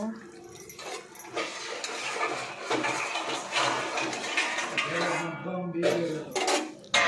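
A pan of paneer curry gets a plate set over it amid clattering dishes and metal clinks, with a sharp clank near the end, some watery sloshing, and faint voices at times.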